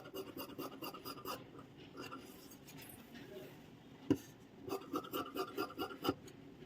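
Scissors snip through blouse fabric during back-hook, back-open blouse cutting: a run of soft, rasping cuts in quick rhythmic bursts, a brief pause, then another cluster of close, steady snips.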